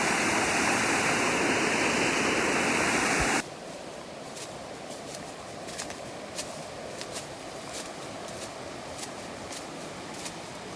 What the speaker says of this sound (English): There's a waterfall behind us back over here, and then the waterfalls in front.